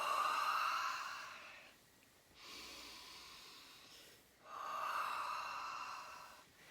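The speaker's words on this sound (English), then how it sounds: "I'm just rubbing the tops of my legs and I'm breathing deep" Close, slow, deep breathing: long airy inhales and exhales rise and fall in three distinct waves with quiet pauses between them, while hands rub the tops of the legs.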